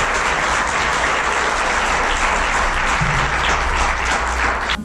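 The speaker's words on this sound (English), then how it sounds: "I'd like everybody to give her a big round of applause." A room full of people applauds a detective being honored at a community event, with dense, steady clapping that holds at full strength for about five seconds before easing slightly at the end.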